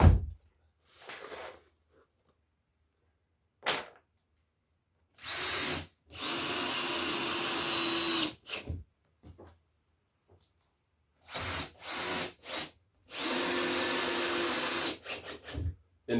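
Power drill driving screws into the wooden layers of a 2 ft, 1.8 m wide skateboard quarterpipe, with several loud close whining bursts of a few seconds each separated by silences, and no voices.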